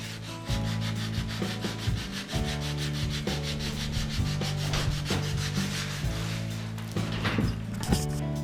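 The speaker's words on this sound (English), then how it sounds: "put a nice finish sand on them so they'll look nice inside the guitar" Steady rhythmic rasping of sandpaper rubbed back and forth over wooden guitar parts for a finish sanding, continuous and close, with no voices.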